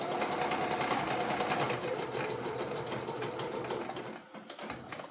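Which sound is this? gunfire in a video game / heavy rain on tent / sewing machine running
sewing machine running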